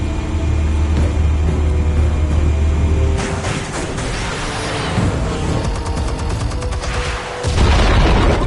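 Explosive charges detonate in a video game, producing loud, heavy booms and a long rolling rumble, with a deep, powerful blast surging again near the end.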